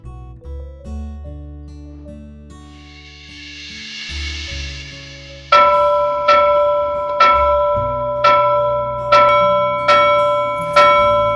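A bell rings repeatedly in a steady series of loud, ringing strikes during a Pakistani drama scene, following a stretch of melodic background music.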